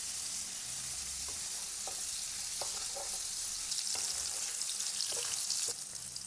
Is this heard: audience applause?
no